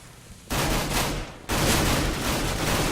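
Rapid automatic gunfire rattles in Counter-Strike on the de_mirage map during an ESEA EU Intermediate playoff match, two loud sustained bursts split by a brief pause, with no talk over them.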